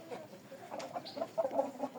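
Young chickens cluck and peep softly in a few short, faint calls, close but quiet against low background noise.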